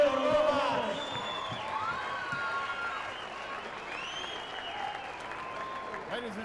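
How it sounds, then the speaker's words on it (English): A boxing crowd applauds and cheers after a pro bout, loud clapping that starts strong and slowly thins, with whoops and a ring announcer's amplified voice talking over it. "How about a big round of applause for Mr. Raul Garcia and Nazareth Rojas?"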